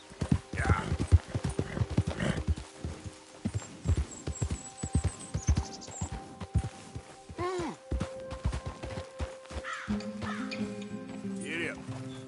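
Hooves of a horse in the video game Red Dead Redemption 2 clip-clop in a rapid rhythmic gallop under game music, with a voice urging the horse on and a neigh near the end.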